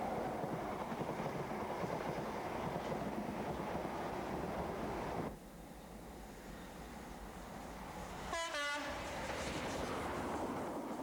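Inter-City 125 high speed train running on the line north of York: a steady, loud rushing roar that drops suddenly about halfway through, then a brief whistling burst near the end.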